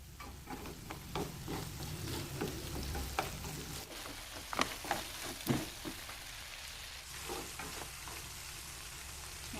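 Crab fries in a pan with pineapple over medium-low heat, a steady close sizzle with irregular crackling pops and stirring scrapes.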